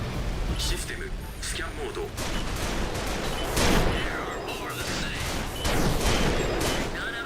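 Rifle fire from mechs in Armored Core: dense rattling bursts and impacts sound repeatedly over a busy mechanical battle, with a voice talking over part of it.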